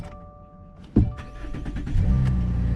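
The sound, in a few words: Subaru Crosstrek engine starting after battery replacement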